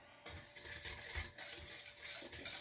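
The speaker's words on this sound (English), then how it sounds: "Mix that all up." A spoon stirs nutmeg, salt and other spices into a crustless pumpkin pie mixture in a bowl, producing soft, close scraping and clinking strokes in an uneven rhythm with no talking.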